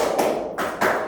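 Hand claps in a counted classroom clapping pattern, a few sharp slaps spaced across about a second, close and fairly loud with no voices over them.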